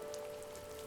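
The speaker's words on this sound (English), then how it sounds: "Oh, it's raining and it's bleak." Soft, steady rainfall in the video game The First Tree, a faint continuous patter of drops with a low sustained musical tone running beneath it.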